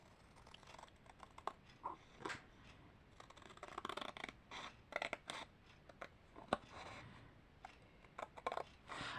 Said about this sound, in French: Et bien il y a des ciseaux.